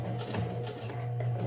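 A sewing machine runs slowly, stitching hair combs into a wig, giving a steady low mechanical hum with soft repeated needle ticks, close and continuous, with no talk.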